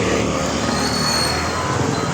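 A jeepney passes close by on a road at a village junction near Southville 6 in Anlog, a loud, steady engine and road roar that fills the whole moment with no let-up.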